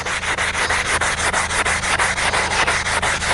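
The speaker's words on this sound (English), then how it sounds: "sanding these out is taking only a few seconds" Roughest-grade sandpaper rubs back and forth over a small wooden bow in steady, rapid strokes, a close, continuous rasping with an even rhythm and no talk.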